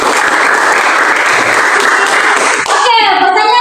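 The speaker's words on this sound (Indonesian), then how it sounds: "tepuk tangan" Sustained applause from children in a classroom, a dense, steady clatter of many small hands close by for about three seconds, then breaking off into a voice speaking.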